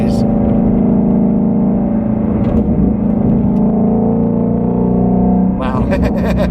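A Shelby GT350R Mustang's engine heard from the cabin, a loud, steady deep rumble with layered harmonic drone at cruising speed and brief rising revs near the end, with no voices.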